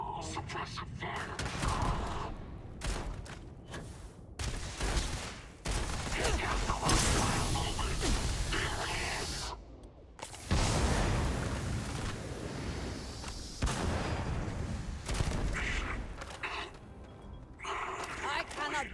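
Gunfire in the sci-fi video game Starfield: bursts of shots and mechanical clatter recur over about nineteen seconds, with short pauses between volleys, mixed with game sounds and voices talking.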